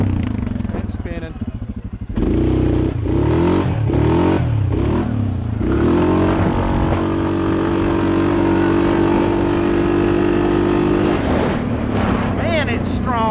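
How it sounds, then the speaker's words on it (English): The dual overhead cam engine of a 2020 Suzuki KingQuad 750 ATV revs up loud and close, a deep thumping drone that climbs and holds a steady high pitch, with someone talking over it. "I just love the sound of this dual overhead cam, man. It's definitely got the thump"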